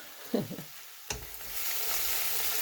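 A Spanish tortilla cooks in a pan over medium heat, with a steady sizzling hiss that swells and holds after a brief clink. Faint speech is heard early on.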